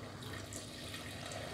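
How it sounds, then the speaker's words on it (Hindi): Water poured into a pot of mutton stew gives a soft, steady trickling splash, faint and close, with no talk over it. "अब मैं इसमें थोड़ा सा पानी ऐड कर दूंगी"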